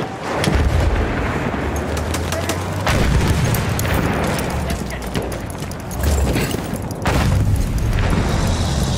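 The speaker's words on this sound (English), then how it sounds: "Slinging grenade!" A grenade explodes amid the chaotic Battlefield 1 battlefield, with heavy booms and scattered gunfire rolling through loud, dense combat noise that stays busy throughout, and distant shouting now and then.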